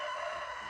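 A rooster on a small homestead crows briefly and loudly, close by, in one short sustained call with no talk.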